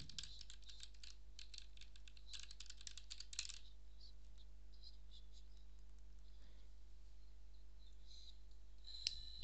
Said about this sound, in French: J'ai reçu un nouveau clavier, c'est le Rocat Vulcan TKL.